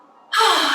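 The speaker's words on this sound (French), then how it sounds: "Je prends une grande inspiration." One sharp, deep inhale during an upper- and lower-body strength workout, breathy and close, starting abruptly after a brief quiet moment.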